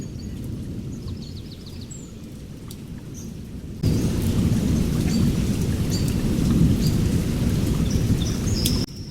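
Heavy rain falls in a Bengali fairy-tale cartoon, a steady roaring downpour with rumbling thunder that suddenly grows louder partway through, with no voices.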